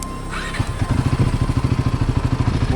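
Motorcycle engine chugging in a steady rhythmic putter while the bike works through deep mud on a mountain road between Rohtang and Chandratal, the exhaust pulses close and fairly loud throughout.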